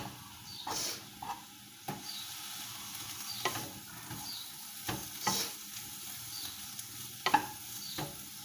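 Rice being stir-fried in a pan for Thai fried rice: a soft steady sizzle broken by repeated scraping, tossing strokes of the spatula, close by, with no talking.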